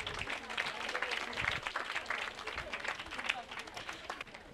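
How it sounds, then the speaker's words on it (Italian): An audience at a regional council meeting with a cooperative gives a round of applause, quiet and somewhat distant clapping with uneven swells, lasting a few seconds. "Grazie, un applauso."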